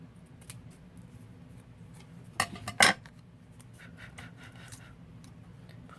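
Scissors cut red paper, with a couple of quick crisp snips close by against a faint background hiss, otherwise quiet.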